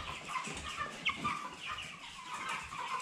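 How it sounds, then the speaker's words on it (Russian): A small young rooster in a poultry weighing setting gives soft, repeated clucks and short calls, fairly close and moderately loud over a busy background of other fowl. "Вот петушок."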